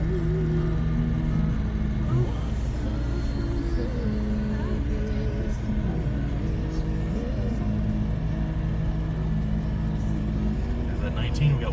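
Car climbing the switchback road up Pikes Peak, its engine droning steadily with shifting revs and a constant low road rumble, heard from inside the cabin while people talk over it.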